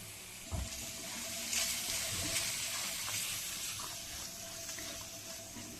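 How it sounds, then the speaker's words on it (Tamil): Tomato puree being sautéed with masala powder in a pan for a Tamil mackerel fish curry (kanangeluthi meen kuzhambu), a steady watery sizzle with faint stirring scrapes running continuously throughout. "இந்த தக்காளியோட ஸ்மெல் போகிற வரைக்கும் நம்ம நல்லா வதக்கிக்கணும்"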